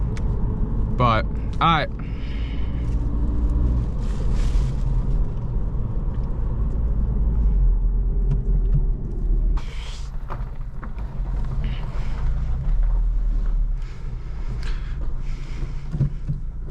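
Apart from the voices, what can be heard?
car engine rumbling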